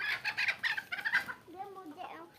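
Chickens cluck close by in short, busy bursts, with a voice murmuring faintly underneath.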